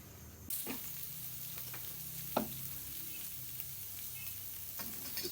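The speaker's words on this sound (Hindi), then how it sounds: "ये हम चर्बी पहले डालेंगे इसमें।" Mutton fat sizzles and fries in a hot iron karahi for a shinwari dumba karahi, a steady close crackle with occasional sharper pops and scrapes, no talking.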